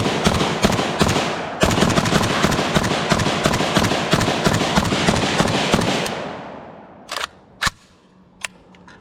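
A KUSA KR-103SF AK rifle fires rapid, loud, close shots through a steel magazine in a long string with a brief pause. The shots stop after about six seconds, and a few sharp metallic clacks follow.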